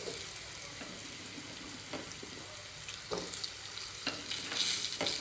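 Mixed vegetables such as cauliflower, beans and brinjal tipped into a hot pan for a curry, giving a steady close sizzle with several sharp scraping stirs of a spatula spaced through it.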